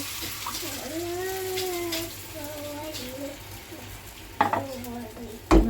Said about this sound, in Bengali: মশলাটা আমার কষানো হয়ে গেছে এবার দিয়ে দেবো মুগ ডাল সেদ্ধটা